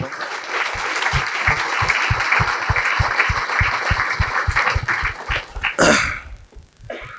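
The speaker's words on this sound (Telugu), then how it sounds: "ఒకసారి గట్టి క్లాప్స్ కొడదాం" Loud, sustained applause from an audience at a spiritual meditation gathering, with dense clapping and steady rhythmic hand claps for several seconds before it fades and breaks off near the end.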